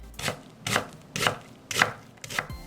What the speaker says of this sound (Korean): 양파 4분의 1개는 작게 썰고